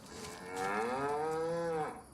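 A Holstein cow in a farming video game on an American map gives a single long, drawn-out moo, clear and fairly close, rising then falling before fading out.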